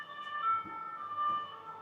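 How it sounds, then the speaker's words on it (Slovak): An ambulance siren on a Paris street, a steady wailing electronic tone held at moderate distance with slight swells in loudness and no voices. "Aj sanitka ide."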